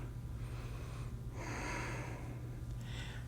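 Deep yoga breathing close to the microphone, two long audible breaths drawn in and released through the nose, quiet and unhurried with no talking.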